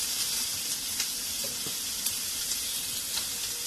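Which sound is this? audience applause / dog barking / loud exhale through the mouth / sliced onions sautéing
sliced onions sautéing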